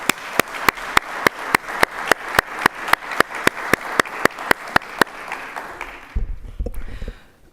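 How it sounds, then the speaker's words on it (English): Audience applause for a panel at a Houston event on immigrants and the economy: sharp, evenly spaced claps ring out loud for about six seconds, then give way to low rumble and faint voices. "Please give a round of applause for all of our panelists"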